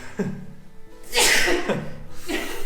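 A person lets out a sharp, close sneeze with a breathy intake before it, followed by a brief murmur, in a dusty tiny-home kitchen.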